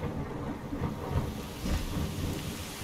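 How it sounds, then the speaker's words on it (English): Minecraft thunderstorm with steady heavy rain and low rumbling thunder swelling in waves, close and continuous, with no talking. "It's a good thing about a thunderstorm."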